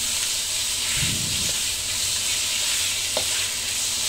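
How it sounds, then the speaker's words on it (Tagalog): Meat sautéing in a pan for an ampalaya dish, with a loud continuous close sizzle and hiss, plus a couple of brief stirring scrapes. "lagay na natin yung ating karne."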